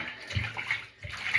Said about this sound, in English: so you give it a good wash